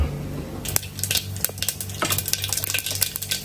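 Cumin and grated coconut tempering in hot oil for kuzhambu, a close sizzle broken by sharp scrapes and clinks of a utensil stirring against the pan, no talking.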